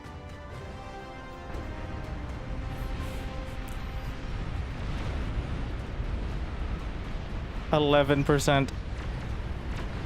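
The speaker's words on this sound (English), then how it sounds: "I think I have a few more nukes landing." Nukes exploding in the strategy game Beyond All Reason, heard as a continuous heavy rumbling roar of blasts that swells midway, with a brief tonal chiming effect near the end.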